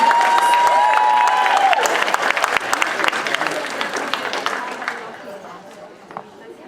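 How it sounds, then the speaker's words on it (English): A school audience claps and cheers louder for a newly introduced English teacher at a welcome-back address, dense applause that starts strong and gradually tapers off, with a few voices over it. "Can you clap louder so she can hear you?"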